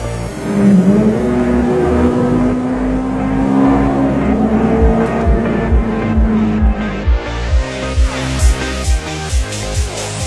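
A Ferrari serving as a taxi pulls away, its engine note rising in a steady climb, then settling into a run of quick repeated pulses as it drives off, loud and close, with brief voices mixed in.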